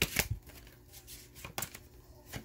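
Oracle cards are shuffled and drawn by hand in a few quick, soft flurries of riffling and sliding, close and fairly quiet.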